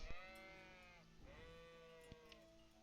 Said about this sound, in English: Alright, let's fight these sheep.